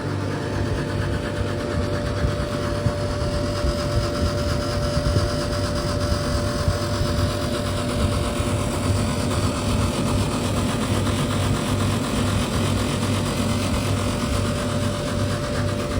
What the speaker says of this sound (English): Got the extractor going and the buff going.